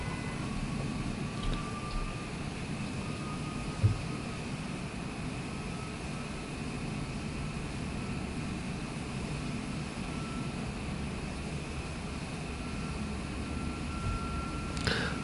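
An airliner taxis after landing in Microsoft Flight Simulator 2024, its engines giving a steady, even jet hum with a faint tonal whine and a brief soft thump near the start, with no voices.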